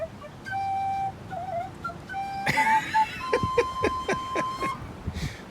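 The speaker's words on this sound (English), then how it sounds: "practicing her recorder" Someone practices a recorder inside a campervan, a Lotus Trooper, playing a string of short, breathy, wavering notes with pauses between phrases, then a faster run of detached notes, close and moderately loud.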